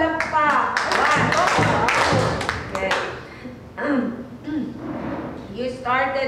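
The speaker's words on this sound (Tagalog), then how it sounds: "Bigyan natin tatlong palakpak." Small training-session group giving three claps in unison, a few sharp rhythmic hand strikes followed by scattered taps and murmured voices, moderately close.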